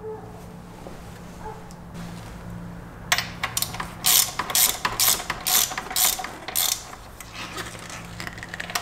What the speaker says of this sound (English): Now once you get all this lined up, we'll tighten all those down.